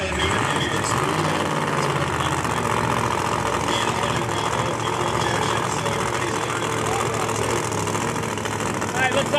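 Drag racing car with a new Hemi engine and screw blower at a motorsports park, a loud rough engine rumble and roar under an announcer talking over a PA.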